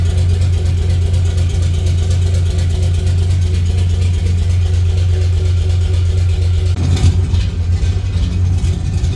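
Steady, loud low rumble of a Nissan 240SX engine idling roughly near 500 rpm, close by and continuous, with a brief shift in tone toward the end.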